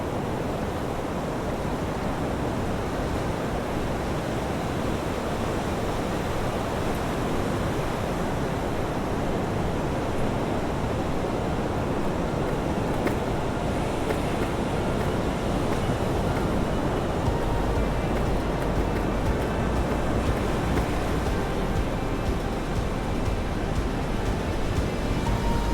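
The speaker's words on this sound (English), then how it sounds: "sat on the cliff, watching the waves crashing against the shore," Ocean waves break against the rocky shore below a cliff on Ibiza, heard as a continuous, even wash of surf noise with no distinct individual crashes and no voices.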